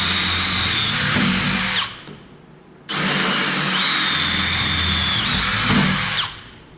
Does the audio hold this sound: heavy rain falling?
no